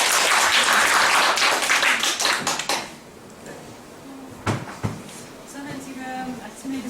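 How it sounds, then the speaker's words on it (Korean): An audience at a classroom lecture claps loudly in a dense burst that fades out after a few seconds, followed by quieter room noise, a couple of sharp knocks, and a voice speaking. "박수 한번 주시고요"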